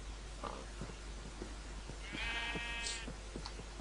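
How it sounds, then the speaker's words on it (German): Sheep in Minecraft bleat a few times among other farm animals, the game bleats short and fairly quiet over a faint background. "Noch mehr Schafe und Schweine."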